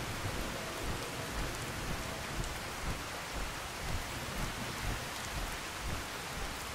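A thunderstorm with heavy rain in the Fallout 4 video game: a dense, constant downpour hiss with low rumbling underneath, steady throughout and free of speech.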